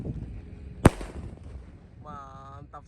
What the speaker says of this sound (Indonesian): Kita lihat mercon Gatot Kaca siap meluncur.